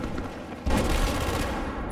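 Gunfire in the video game Battlefield 4, a dense burst of rapid shots with a heavy boom in the middle, brief and loud.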